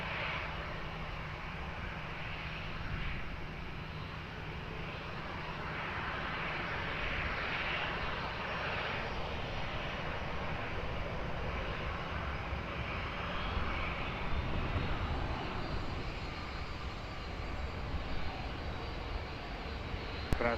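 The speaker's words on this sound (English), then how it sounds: "Air France landing now" An Air France airliner landing at Lisbon Airport gives a steady, broad engine roar that swells gently and holds for a long stretch, distant but loud, with no voices.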